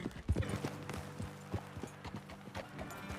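In Red Dead Redemption 2, horse hooves clip-clop in a steady, soft walking rhythm on hard ground, fairly close but quiet, with no speech over them.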